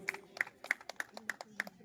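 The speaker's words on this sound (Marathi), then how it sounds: "जोरदार टाळ्या" Applause for the winners of a pageant fashion show final round, heard as sharp, evenly spaced claps about three per second, fairly close, with a voice talking faintly underneath.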